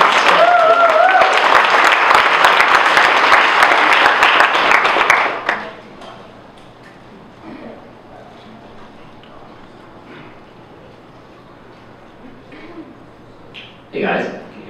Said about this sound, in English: So big round of applause for Vadim.